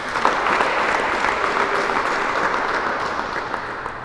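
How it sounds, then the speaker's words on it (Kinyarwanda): Applause from an audience at a certificate award ceremony in a parish hall, dense, sustained clapping from many people, loud and continuous throughout with no talking over it. "Bongeye bafashe tubaha amashyi."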